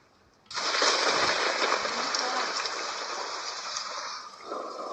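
Heavy rain during a storm starts abruptly and holds as a dense, loud, continuous hiss and patter, easing slightly toward the end.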